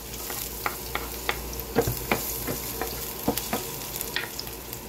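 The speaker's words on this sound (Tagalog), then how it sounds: "maglalagay na tayo ng mantika. Atin lang gigisay ng bawang." Garlic sautéing in hot oil in a pan for chicken igado, with a steady sizzle broken by regular scraping stir strokes close by and no talk.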